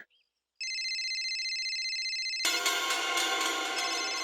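An electronic phone ringtone plays steadily and loud, a sustained tonal trill that swells into a fuller, busier melody partway through, with no talking.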